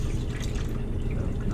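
Water drains under residual pressure from an opened toilet supply line valve into a bucket in a gas station restroom, a continuous close-up splashing rush with no pause.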